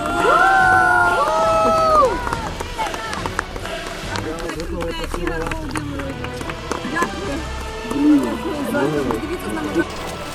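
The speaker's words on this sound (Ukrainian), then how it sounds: "Аплодисменти!" Audience at a swim event on a lake breaking into loud applause, cheering and shouts, strongest at first and then settling into scattered claps and voices, with people talking throughout.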